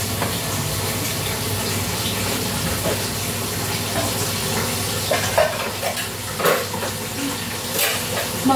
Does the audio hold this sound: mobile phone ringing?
no